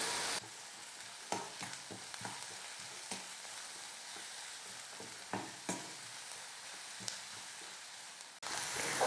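Onions sauté for egg pakoda, giving a quiet, even frying hiss with occasional spoon scrapes and taps. The sound is faint but continuous, with no one speaking.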